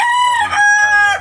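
A Serama chicken crows nearby, one loud, clear, high-pitched cock-a-doodle-doo with a short break in the middle, heard alone.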